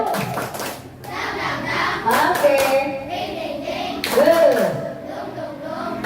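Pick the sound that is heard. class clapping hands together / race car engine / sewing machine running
class clapping hands together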